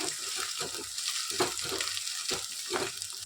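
Onions and masala frying in a pan for pithla crackle and sizzle up close, broken by several short scraping stirs of a spatula in an uneven rhythm.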